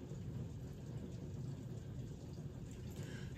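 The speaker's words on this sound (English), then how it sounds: "it's raining outside right now" Rain falls outside and is heard from indoors as a steady, even hiss that runs the whole time. There is no talking.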